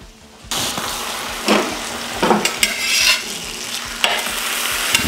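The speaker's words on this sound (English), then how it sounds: "So we're gonna get this Taylor ham browned up here and then we'll drop some eggs down." Taylor ham browning on a VEVOR 21-inch electric griddle, a steady broadband sizzle with spatula scrapes and stirring clatter, close and fairly loud after a quiet start.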